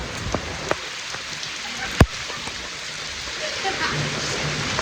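Heavy monsoon rain in a Konkan village hisses steadily and broadly, with scattered sharp drops hitting nearby surfaces and one louder close impact, a continuous near wash of sound.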